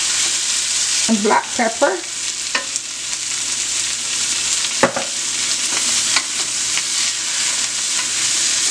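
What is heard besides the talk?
sautéing food sizzling in a pot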